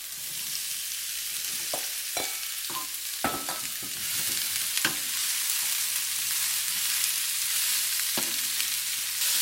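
Celery, carrot and onion stir-fry in a hot pan with a steady, soft sizzle, broken by scattered clacks and scrapes of a utensil stirring the vegetables.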